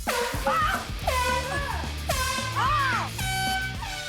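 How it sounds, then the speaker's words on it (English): Loud, blaring air horn blasts sound repeatedly in quick bursts with rising and falling pitch, close and dominating. "a lover of air horns"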